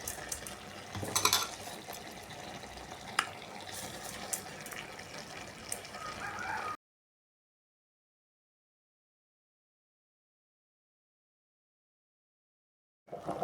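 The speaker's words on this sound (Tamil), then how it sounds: "இப்போ இந்த மாதிரி வெந்துடுச்சா, இப்போ அரிசி போட்டுக்கணும்." Rice is poured into a pot of simmering water for homemade biryani and stirred, giving a steady close rushing, splashing wash for several seconds before it cuts to silence, then returns briefly at the very end.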